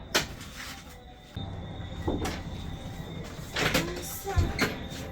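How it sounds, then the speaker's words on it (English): Door opening and closing in a house, several clattering sliding thumps and knocks spread over a few seconds against a steady background hiss, fairly close. "Me know me hear the door now."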